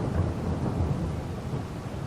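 Thunder rumbles low and steady through a downpour in the farming game Farming Simulator 22, on the Zielonka map, a continuous wash of rain filling the whole stretch with no voices.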